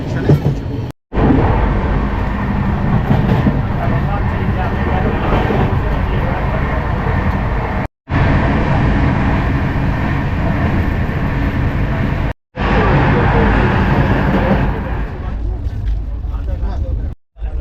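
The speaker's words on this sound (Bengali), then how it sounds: "12353 লালকুয়া এক্সপ্রেস একদম কারেক্ট টাইমে রান করছে।" A 12353 Howrah–Lalkuan superfast express train runs at speed past Durgapur, its loud, steady rumble and rattle filling the whole stretch, broken by two brief sharp dropouts and ending in a short silence.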